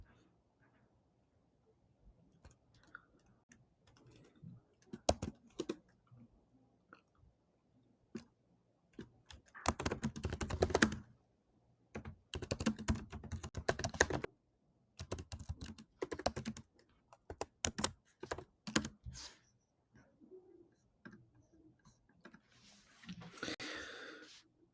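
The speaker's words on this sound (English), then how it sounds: "So let me type up something and we'll review it." Bursts of typing on a computer keyboard as a prompt is entered, rapid clicking keystrokes in uneven runs separated by pauses, close and fairly quiet.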